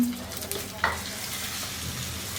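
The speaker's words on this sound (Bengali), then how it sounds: "একটা কড়াই আমি একটু সরিষার তেল গরম করে নিয়েছি, ওর মধ্যে এই ডিমগুলোকে দিয়ে আমার একটু ভেজে নিতে হবে" Eggs fry in hot mustard oil in a wok, a low, even sizzle with one brief utensil knock near the start and no voices.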